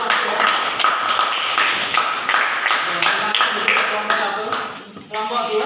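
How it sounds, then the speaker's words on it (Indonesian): A group in a classroom or meeting claps for the first team after its presentation, a brisk patter of hand claps that thins out near the end as a voice begins. "tepuk tangan buat kelompok 1 ya"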